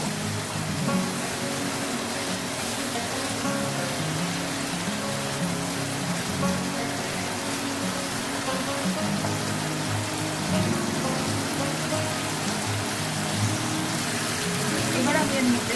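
Spice paste sizzles steadily in a pan as it is stirred before water goes in, for a mustard-based parshe fish curry; a continuous, fairly loud broadband hiss with no pauses and a voice faintly underneath.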